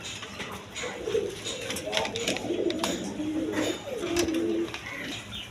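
Pigeons for sale at a farm coo in soft, repeated throaty phrases close by, several calls overlapping against a low background murmur.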